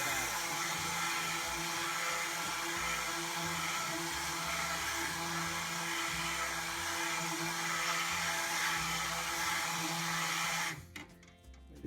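An electric mixer on speed 2 whips goat milk soap batter in a long, steady, close whir that cuts off abruptly near the end.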